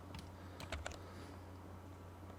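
Short keystrokes typed on a computer keyboard while entering AutoCAD drawing commands, a quick cluster of clicks early on and then quiet room tone, close and soft.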